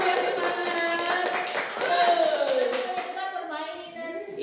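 A group claps together in a classroom-style session, a brisk, steady patter of hands mixed with cheerful voices talking over it throughout.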